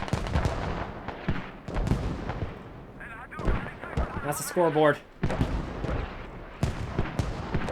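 Repeated explosions and gunfire in a heavy tug-of-war fight at the walled courts in the military shooter game Squad during an open tournament match, loud bursts under near-continuous commentary.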